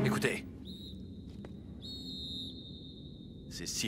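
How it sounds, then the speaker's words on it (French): Eerie high-pitched whistles hold long, steady tones, one after another, in a quiet space, with brief voices at the start and end. "Ces sifflements ne me disent rien qui vaille."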